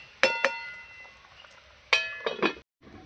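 Metal lid set back onto a cooking pot of simmering pumpkin and fish curry, with a few close, sharp clinks and rattles as it settles, then quiet.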